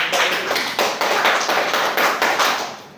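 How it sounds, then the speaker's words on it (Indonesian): A group claps together in a rhythmic burst, rapid hand claps filling the room for a few seconds. "Tepuk tangan dulu"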